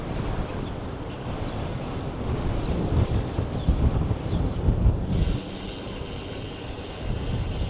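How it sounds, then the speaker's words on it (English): Strong wind buffets the microphone during a bike ride home in sunny Vancouver, a loud, steady low rumble with gusts that swell in the middle and ease off toward the end; no one speaks. "Oh, it's windy."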